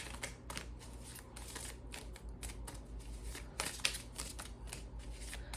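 Tarot cards are shuffled and handled in a steady run of soft riffling and papery slaps, close and fairly quiet, with no voice over them.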